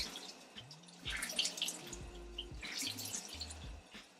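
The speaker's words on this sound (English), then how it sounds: "I open the pipe and I am just letting the water get into it" Water running from a tap over makeup brushes being washed in a sink, with soft trickling and dripping splashes that swell and fade, fairly quiet and close with no talk.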